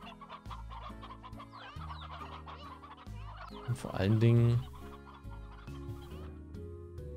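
Hens cluck in the video game Slime Rancher, a run of fowl calls over steady game music, swelling into a louder burst of clucking midway before easing back.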